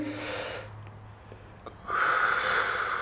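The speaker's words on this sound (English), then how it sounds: "So go ahead and breathe in for me." A patient breathes in deeply during chest auscultation in an EMT assessment, one long audible breath followed by a louder airy hiss of another inhale, close by with no talking.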